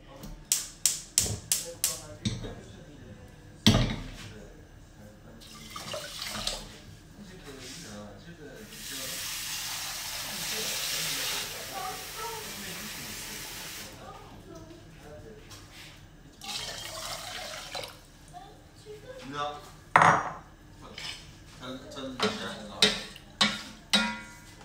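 Rice is rinsed several times in water for sushi, with tap water splashing and running steadily in the middle stretch, framed by sharp clicks and knocks of a bowl and sloshing handling.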